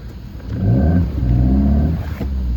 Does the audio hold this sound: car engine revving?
yes